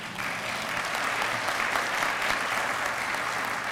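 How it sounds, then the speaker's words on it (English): A breakfast crowd at a foundation partners event applauds Dr. Barry, a dense, steady roar of clapping from many hands that holds evenly throughout without any talk. "Give that man a round of applause."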